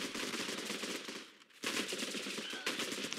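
Rapid automatic rifle fire and scattered gunshots in the Running with Rifles video game, loud and dense throughout, with a brief lull near the middle before the bursts resume.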